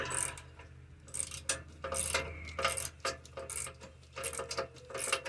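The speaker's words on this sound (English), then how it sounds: "I'm going to use this here ratcheting wrench to do the duty." A ratcheting wrench tightens a nut while a bumper is installed, giving bursts of rapid, close clicking separated by short pauses.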